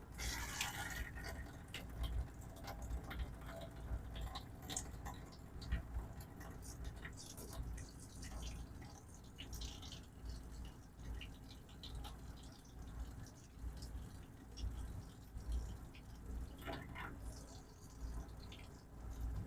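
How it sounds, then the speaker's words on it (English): Hot water running from the kitchen faucet in a 2018 Forest River Flagstaff Shamrock 233S expandable RV, a steady low splashing flow that continues throughout at a modest level. "Oh yeah, there's the hot water."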